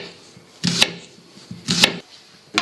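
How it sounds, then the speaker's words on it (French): A kitchen knife cuts onions into rings on a board, giving two distinct chopping bursts about a second apart, each a crisp, close crunch with a sharp tap. The cutting is loud and clear, with no talk over it. "pour couper les oignons, il faut bien mettre les phalanges à l'intérieur"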